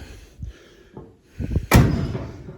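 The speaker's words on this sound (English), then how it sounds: "damn, them doors shut good" A 1965 Chevelle Super Sport car door slams shut with one loud, close, solid thud, following a few softer knocks and handling sounds.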